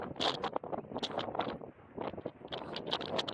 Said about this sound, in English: we're out hunting in a pretty stiff wind out here in the Badlands